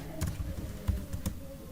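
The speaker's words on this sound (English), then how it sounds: "Let me type it here as I've done it." Fingers tap a computer keyboard in a few sparse, quiet keystrokes with uneven gaps, heard close over a low room hum while a simple linear regression equation is typed in Python.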